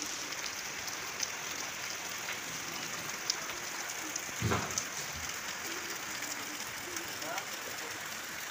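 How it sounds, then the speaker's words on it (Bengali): Heavy monsoon rain pours steadily outside a home, a dense continuous hiss with scattered louder drops and a brief thud partway through, heard from indoors behind a closed door. "তো খুব জোর বৃষ্টি নেমে গেছে"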